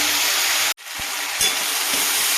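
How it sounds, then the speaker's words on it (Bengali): Onion greens frying in a pan with turmeric give a steady, fairly loud sizzle that breaks off briefly, then resumes with a few soft stirring knocks. "দিয়ে পেঁয়াজ কলিটা একটু ভাজা ভাজা হবে, বেশি ভাজবো না, সামান্য একটু ভাজা ভাজা হবে।"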